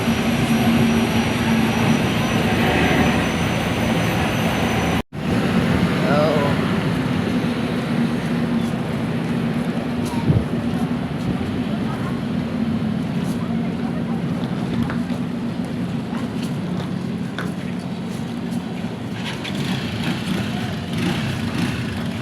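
Steady low engine drone of a passenger ship nearing the dock, broad and continuous with a constant hum and wash; voices talk over it at times, with a brief dropout near the start.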